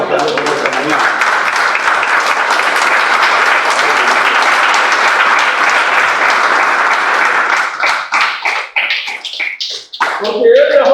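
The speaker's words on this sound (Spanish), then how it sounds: "Que les ofrenda de palmas a Dios esta mañana." A church congregation claps together during a Spanish-language service, loud sustained applause that fills most of the stretch before thinning into scattered claps at the end.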